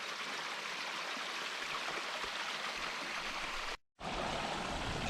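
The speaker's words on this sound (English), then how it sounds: "the waterfall just starts right there" A small waterfall pouring out from beneath a stone on a rocky hillside, a loud, steady broadband rush heard up close with a brief dropout near the end and no voices.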